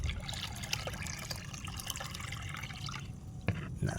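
Dissolved fertilizer solution is poured into a bucket for young watermelon plants, giving a soft close trickle and splashing of liquid with a few light drips and knocks, quiet and steady.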